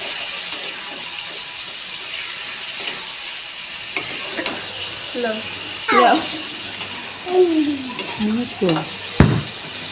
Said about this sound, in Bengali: এটা আমি ভালোভাবে নেড়ে নিচ্ছি